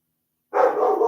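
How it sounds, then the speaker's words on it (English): A dog barks after half a second of silence: one sustained, fairly close bark or yelp that carries on to the end, with no talk over it. "Don't bark too much, or everyone will get sick of hearing you."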